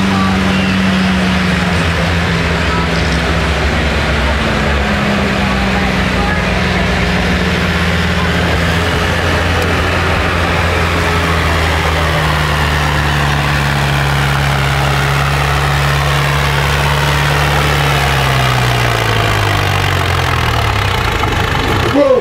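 A loud tractor engine labors during a tractor pull at a Coaticook event, with a heavy drone whose pitch slowly drops over the run before easing off at the end.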